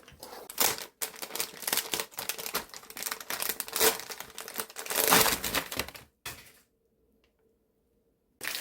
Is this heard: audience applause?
no